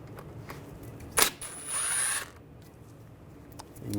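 Power tool driving a T30 socket to remove a screw from a front brake rotor on a 2009-2017 Volkswagen Tiguan, with one short close whir rising about a second long, set among quieter workshop clatter.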